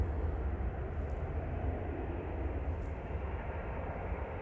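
A Jet2 Boeing 737-800 airliner departing Manchester Airport produces a steady, broad engine roar heard from a distance, continuous and fairly faint throughout.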